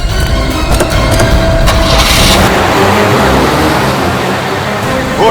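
Two cars drive off in different directions on a road, a loud, close engine roar and road noise that slowly fades, with no voices.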